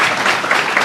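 Audience applause at a Kapsabet High School event in Nandi County, a short loud burst of dense clapping.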